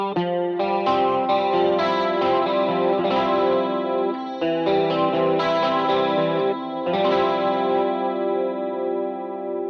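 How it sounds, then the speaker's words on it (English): An electric guitar with a lush chorus effect plays a series of ringing chords and arpeggiated notes. The tone is loud and shimmering, with gaps between phrases and a steady, swirling sustain. "which is my chorus sound."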